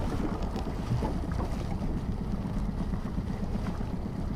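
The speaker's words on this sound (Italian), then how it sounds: "Non so se si nota il vento e l'onda che c'è." Strong wind buffeting the microphone on a lake, with waves lapping against a fishing boat, a constant rough low roar throughout with no voices.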